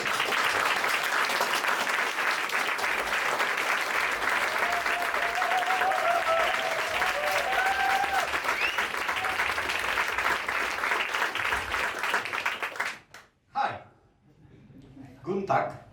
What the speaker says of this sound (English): Now, exponential applause for Luis Jacob.